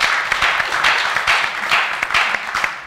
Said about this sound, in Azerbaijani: Və Elşad doktora bir alqışlar gəlsin.